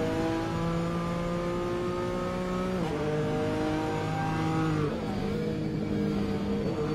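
Sustained GT3 race car engine drone in a sim racing game, heard on board as steady harmonic tones shift in pitch with gear changes and braking around the third and fifth seconds, loud and continuous with no talking.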